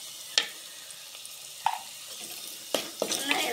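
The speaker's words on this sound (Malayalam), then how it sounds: "ഇനി ഇതിലേക്ക് 1/2 ടേബിൾ സ്പൂൺ മുളക് പൊടി ഒന്ന് ഇളക്കിയെടുക്കാം." Chili powder and fenugreek powder stirred in a pan while making fish moli, faint scraping spoon strokes and light clinks over a soft sizzle, no talk.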